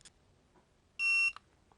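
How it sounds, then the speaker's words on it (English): A single sharp electronic beep, about a third of a second long, from a TST 507 Series wide screen display as its set button is held, sounds clearly in an otherwise quiet room with a faint click after it. "you hold the set button down until it beeps."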